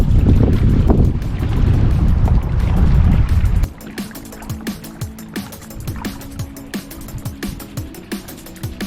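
Paddle craft out on the water: loud wind buffeting for the first few seconds, then a series of close, rhythmic splashes and knocks repeating every half second or so, with no talking.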